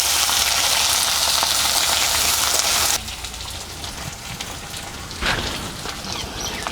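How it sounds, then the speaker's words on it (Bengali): Potatoes for Bengali-style aloo posto frying in a pan, a loud continuous sizzle that drops to a quieter crackle partway through, with a brief scraping burst from stirring near the end. "আলুটাকে নাড়াচাড়া করে আমি খুব ভালো করে ভেজে নেব।"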